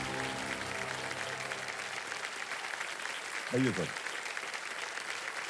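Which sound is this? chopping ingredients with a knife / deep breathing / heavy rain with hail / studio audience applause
studio audience applause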